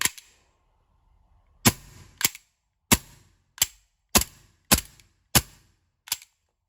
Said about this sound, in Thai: ผมยิงทดสอบระบบให้ดู อันนี้ไม่มีลูกนะครับ